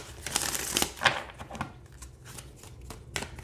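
Witches' Oracle tarot-style cards being shuffled by hand, a run of close riffling, crisp papery flutters and soft slaps in quick irregular bursts, with no voices.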